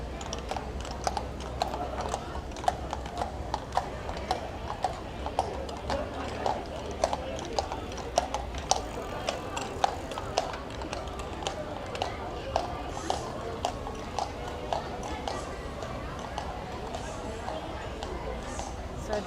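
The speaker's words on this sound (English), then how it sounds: "Key West Police Department patrolling on horses" Hooves of police patrol horses clip-clopping along a Key West street at night, a steady irregular clatter of hoofbeats running the whole stretch amid crowd chatter and street noise.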